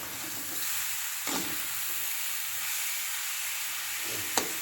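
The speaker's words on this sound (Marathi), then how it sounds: "मंद आचेवरती आपल्याला हे सगळं शिजवून घ्यायचं असतं" Fresh coconut barfi mixture cooking over low heat in a pan, a steady close sizzle and hiss with occasional scrape-like stirring strokes, alone without speech.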